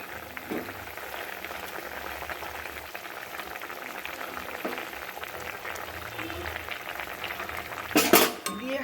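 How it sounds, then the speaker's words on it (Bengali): Fried tangra fish pieces dropped one at a time into a bubbling curry, a steady close simmer and boil with soft splashes, ending in a louder burst of sizzle and clatter. "ঝোলটা ফুটে এসেছে এবার ভেজে রাখা মাছটা একে একে করে ছেড়ে দেবো"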